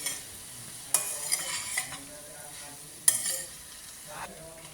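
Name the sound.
stirring boiled chickpeas in a cooking pan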